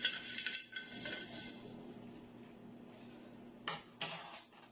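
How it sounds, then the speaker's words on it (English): A metal spoon stirs mung beans soaking in water in a bowl, giving a few soft scrapes and light clinks against the dish, with two sharper knocks near the end, close and fairly quiet with no talking. "you use your spoon now and you just give it a nice little turn"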